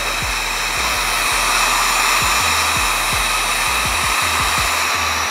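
A heat gun blows hot air over a chrome car grill, a loud steady roar close by with repeated low thumps and crackles underneath, with no talking.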